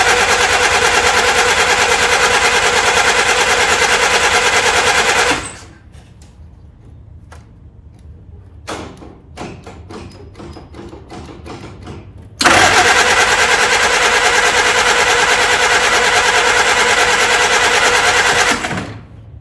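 A 1947 Willys engine cranks hard with the choke pulled, two long bursts of rapid, loud, rattling cranking separated by a quieter stretch of clicks and knocks, with no voices.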